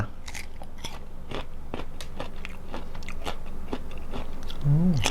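Someone bites and chews crisp mangosteen from Nakhon Si Thammarat, dipped in salt: a run of sharp, close crunches in an uneven rhythm, with a brief murmur near the end.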